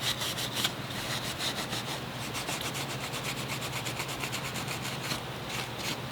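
A scuff pad rubs back and forth over a VW engine cylinder head surface in steady, rapid strokes, close and moderately loud, with a constant low hum underneath and no talking.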